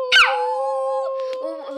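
A girl imitates a wolf howl with her voice, a single sustained, wavering tonal howl that opens with a sharp rising yelp, followed by a short second vocal bit.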